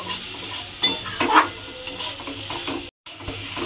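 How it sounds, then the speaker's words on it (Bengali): A spoon stirs and scrapes through poppy seeds frying in a pan, with a soft sizzle and rhythmic scraping strokes. "পোস্তটা দিয়ে আমি প্রায় 2 থেকে 3 মিনিট মতো এইভাবে একটু নাড়াচাড়া করে ভাজা ভাজা মতো করে নিয়েছি"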